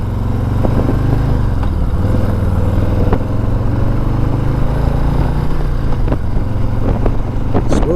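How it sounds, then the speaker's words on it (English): Loud, close engine rumble of a 2020 Harley-Davidson motorcycle with pitch dropping and rising as the rider shifts through gears, wind buffeting over the steady throb. "Smooth shifting motorcycle."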